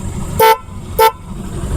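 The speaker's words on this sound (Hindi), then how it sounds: "एक तो हॉर्न का साउंड देखना इसका" Loud, close horn of a Hero Deluxe motorcycle, fitted as a powerful aftermarket horn, sounding two short, steady toots about half a second apart over quiet background noise.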